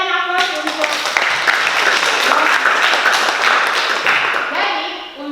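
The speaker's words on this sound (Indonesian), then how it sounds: "Oke, kita berikan aplaus untuk." Classroom applause from students at a vocational high school, a dense burst of clapping that starts abruptly, holds steady for several seconds and tapers off at the end.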